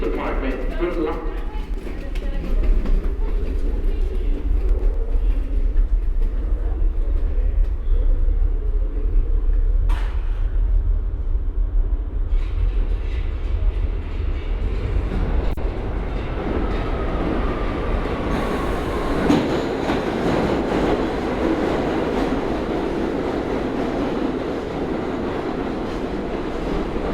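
A New York City subway train at the 191st Street station in Washington Heights, a steady loud rumble of rail noise filling the platform throughout, with a station announcement voice over it and a brief squeal partway through.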